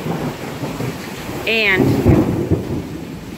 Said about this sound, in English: that thunder traveled